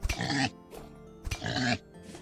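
Pigs grunting in the survival game Vintage Story: two loud, close bursts of rough nasal oinks about a second apart, each trailing into fainter grunts, with no talking over them.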